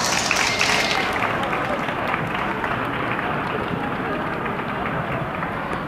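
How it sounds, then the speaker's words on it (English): Dense, steady applause from a large crowd at a Filipino summer festival pageant, continuous and loud throughout with no pauses. "Please give them a round of applause."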